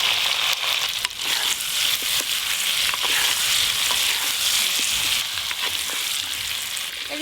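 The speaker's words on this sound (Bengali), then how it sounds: "মাটির হাঁড়িতে সর্ষের তেল দিয়ে আলুগুলো ভালো করে ভেজে নেব" Potatoes fry in mustard oil in a clay pot, giving a loud, continuous close-up sizzle with occasional stirring scrapes and clicks, and no talking.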